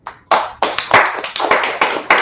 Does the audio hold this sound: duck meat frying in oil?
no